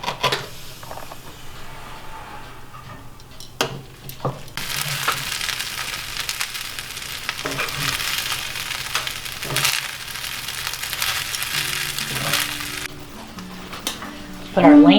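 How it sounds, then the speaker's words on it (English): Leftover rice frying in a hot pan with lamb, a loud continuous sizzle that starts around four seconds in and holds steady, with a few stirring clatters and knocks at the edges. "I'm just going to put my rice in here, kind of make like a fried rice, heat it up"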